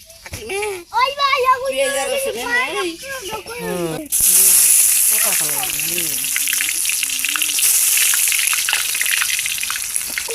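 Oil sizzling and hissing in a wok over a fire, a steady bright frying noise that rises suddenly and continues loudly under a child's and adults' voices.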